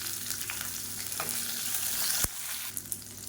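Whole shallots, ginger and garlic frying in oil in a pan for a drumstick leaf chutney, a dense close sizzle with occasional stirring scrapes and one sharp knock.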